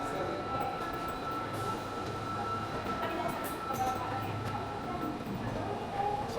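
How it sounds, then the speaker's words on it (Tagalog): A train pulls into a station in Osaka, Japan, a loud continuous rumble and whine of rail cars filling the platform, with voices faintly under the noise. "Punta na kami ng train. Yan, train na."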